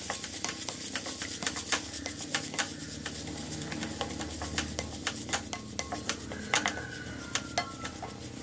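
Onions sautéing in a pan for a fish puttu dish, with a soft sizzle underneath and a steady run of clicks and scrapes from a spoon stirring against the metal, close and fairly quiet, no voices.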